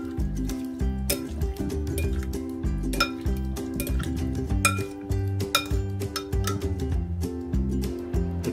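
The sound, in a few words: mixing avocado corn salad with coriander in a bowl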